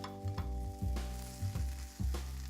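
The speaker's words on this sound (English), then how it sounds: "I'm going to give these a flip." Seasoned hash browns sizzle and fry in a pan, with rhythmic scraping and stirring strokes repeating roughly every half second over a steady crackle.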